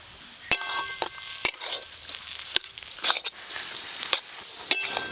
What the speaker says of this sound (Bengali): এবার আলুর সঙ্গে ভালো করে মিশিয়ে নেব